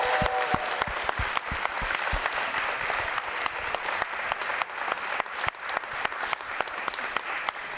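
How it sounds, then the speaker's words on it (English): Audience applause at a Royal Academy symposium for a panel of speakers, dense sustained clapping from a large crowd, steady and full throughout with individual sharp claps standing out near the start. "An extra round of applause to my incredible panelists"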